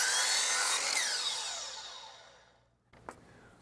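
A saw finishes an outside 45 degree miter cut on baseboard, a bright whirring spin-down that fades over a few seconds, followed by a short knock.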